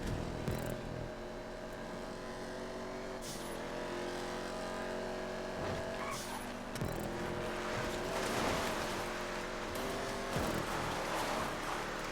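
Race cars in GTA 5 drive around a track, their engines droning and revving at a sustained, moderately loud level as several cars pass, with a brief swell of engine noise.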